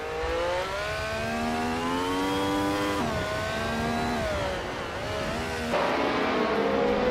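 Vintage race cars, a Lotus 49 and a 1967 McLaren M5A, in a racing video game, with a high engine note rising through the gears, dropping at each shift and climbing again, loud and continuous.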